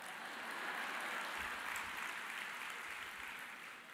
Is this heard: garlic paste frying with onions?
no